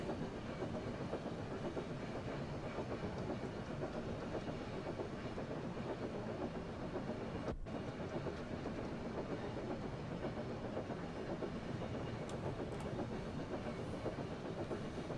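A Thomas the Tank Engine train rolls along the rails in the Train Sim World video game, giving a continuous, steady rumble with rail clatter and one brief dropout midway.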